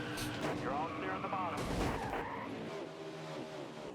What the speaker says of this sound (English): And we just took out Ryan Preece with us.